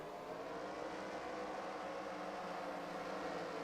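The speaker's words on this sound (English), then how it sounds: "our Dodge Charger pace car" A Dodge Charger pace car in the NASCAR Racing 2003 video game gives a steady, droning engine hum that holds an even level for the whole stretch, with no voices over it.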